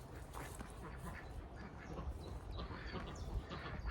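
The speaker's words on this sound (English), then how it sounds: "Let's take a look at the ducks." Several ducks quack repeatedly and close by, their calls overlapping in a busy, continuous chatter.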